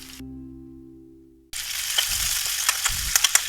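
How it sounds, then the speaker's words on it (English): Curry leaves and onions hit hot oil in a pan after a fading tone, setting off an abrupt, steady sizzle with a few crackles and stirring scrapes, close and fairly quiet. "now we can add the curry leaves and saute it"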